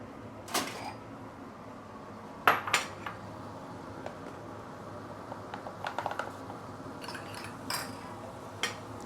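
Starch solution is stirred in a bowl while cooking braised fish head, with sporadic light clinks and taps of a utensil against the bowl over a quiet kitchen background.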